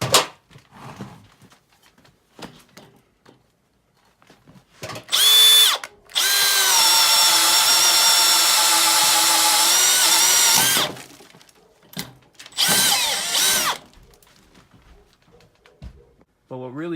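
Makita XPH07 brushless hammer drill running on speed 1, a steady whirring motor hum held for about five seconds, with shorter bursts before and after and light handling noises in between.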